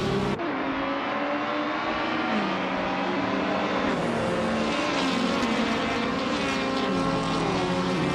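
Several 2018 BMW 125 race cars roar together at Botniaring, a loud, steady multi-engine drone with shifting pitch as they accelerate, no talk.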